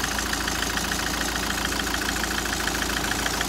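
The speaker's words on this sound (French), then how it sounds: "je vais redémarrer la voiture et je vais voir ce que ça donne" A Citroën C5 car engine idles steadily after a restart during an air-conditioning repair, a constant even hum with a faint regular ticking, close and unbroken, with no talking.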